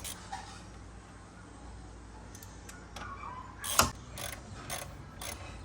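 A ratchet loosens 10mm bolts on the radiator of a 2007 Kia Spectra, giving quick bursts of close mechanical clicking with one sharp clank midway, over quiet background and no talking.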